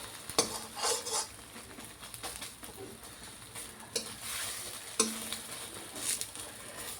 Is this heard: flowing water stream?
no